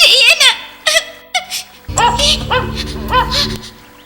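A cartoon dog gives several short, high yips and barks in quick bursts, close by, as it reaches a duckling in an animated Malayalam Ugly Duckling story, while a low musical drone starts up partway through.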